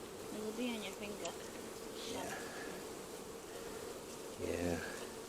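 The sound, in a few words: honeybees buzzing around an open hive during inspection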